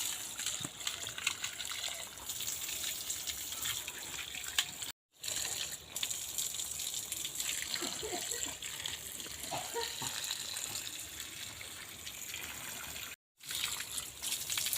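Tap water runs steadily while chicken, potatoes and green papaya are washed in a home kitchen, a continuous trickling gush that carries on near the microphone with two brief dropouts.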